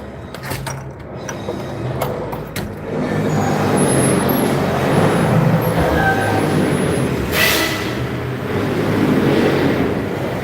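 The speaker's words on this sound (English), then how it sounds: "They trying to move that trash truck." Heavy garbage truck engine rumbling steadily outdoors in snow and ice in Wilmington, Delaware, with a loud hiss of air brakes releasing partway through.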